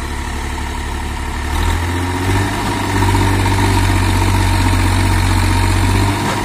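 A 50-horsepower 2020 Massey Ferguson 245 tractor, hauling a trolley loaded with potato sacks, runs at full throttle, its low diesel drone rising and steadying after a couple of seconds, loud and continuous with no talk.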